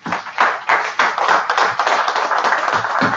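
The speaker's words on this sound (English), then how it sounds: "Let's give the Most High a round of applause." A small group clapping at a religious gathering, close and fairly loud, with uneven bursts of handclaps that swell and fade over a few seconds.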